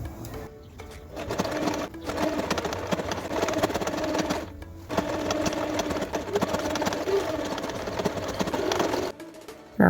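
A sewing machine stitches a seam on a traditional shweshwe skirt in fast, steady whirring runs, pausing briefly twice and stopping near the end; close and loud, with no talking.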